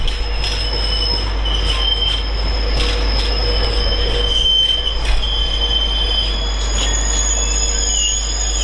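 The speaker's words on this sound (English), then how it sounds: "A lot of squeaking from them brakes then." A passing train on the East Coast Main Line pulling in with its brakes squealing, sustained high-pitched screeches over steady rolling rumble and rail noise, loud and close, no talk.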